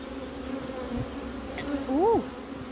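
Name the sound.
bees buzzing around an opened hive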